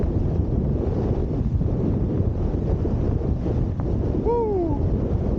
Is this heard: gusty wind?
yes